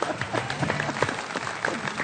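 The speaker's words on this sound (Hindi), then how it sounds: "भाई नजीब भाई के लिए बहुत सारी तालियां।" A studio audience on a Pakistani cricket talk show claps for a guest, a brief, dense burst of applause with faint voices mixed in.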